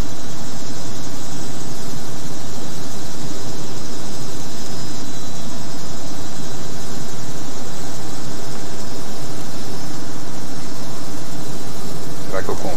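Aircraft landing at Gimpo International Airport in Seoul in the Prepar3D 4.5 flight simulator, a steady loud engine rumble and airflow roar running throughout with no talk.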